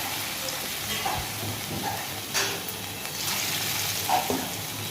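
Food fries a second time in a pan, a soft, continuous sizzle with occasional light clinks and bubbling pops at moderate loudness.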